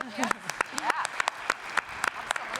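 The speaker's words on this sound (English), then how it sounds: "let's clap for that" Scattered claps from an audience at a press conference for the New Shepard NS-31 mission, sharp percussive hits spaced irregularly, with a voice speaking over them throughout.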